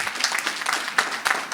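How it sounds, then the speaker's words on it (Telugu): An audience claps at a school reunion, a dense round of applause that stays fairly even throughout with a few sharper individual claps near the end. "చప్పట్లు కొట్టాలి ఖచ్చితంగా"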